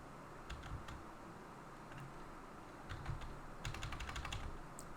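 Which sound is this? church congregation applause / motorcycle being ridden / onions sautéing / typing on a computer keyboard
typing on a computer keyboard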